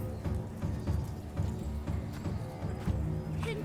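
Horse hooves clip-clop at a steady walking rhythm in the PS5 game The Inquisitor, fairly quiet and continuous throughout.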